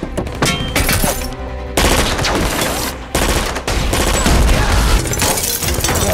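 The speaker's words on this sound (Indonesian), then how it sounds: "Kapten Espin juga terluka parah akibat diberondol peluru" Gunfire from a shootout in the film Jack Reacher: Never Go Back, loud rapid bursts of automatic fire with sharp repeated cracks and brief pauses between volleys.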